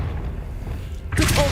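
Confringo explosive spell cast in Hogwarts Legacy, a sudden loud burst arriving near the end after a quiet stretch of low background rumble.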